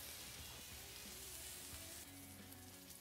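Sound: steak sizzling on a Blackstone griddle

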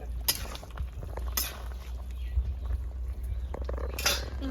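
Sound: stirring fish curry in pot with spoon

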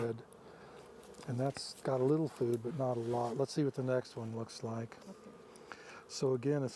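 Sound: bees buzzing at an open hive

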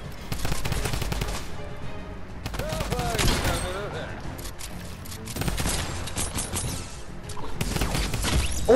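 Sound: gunshots in a video game

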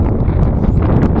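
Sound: wind

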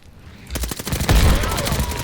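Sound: gunfire from video game Call of Duty: Vanguard

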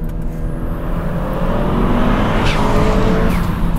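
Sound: turbocharged Honda Civic engine

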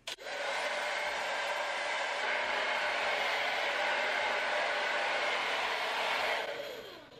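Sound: blow dryer running

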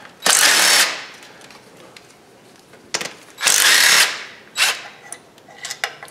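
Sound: tools loosening bolts and nuts on a Honda engine

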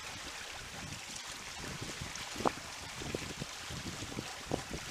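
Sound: sailing boat Everhopeful moving through water

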